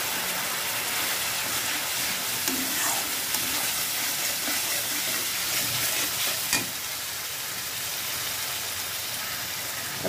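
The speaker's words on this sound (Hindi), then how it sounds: "तो हमारा मसाला पूरी तरह से भून गया" Mixed masala spice blend frying in hot oil, a dense continuous sizzle with soft stirring scrapes, close and steady, one sharper clack of a spoon partway through.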